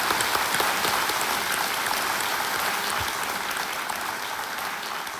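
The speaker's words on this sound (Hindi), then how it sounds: "तालियों के साथ हम आपका स्वागत करते हैं।" Studio audience applause on the Kaun Banega Crorepati quiz show set, a thick, even roar of clapping from many hands that holds steady and close for the whole stretch.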